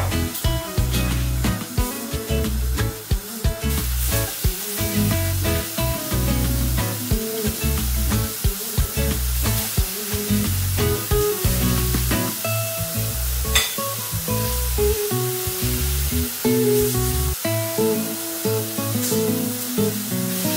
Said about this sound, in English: Now I'm gonna grill as well some mushrooms.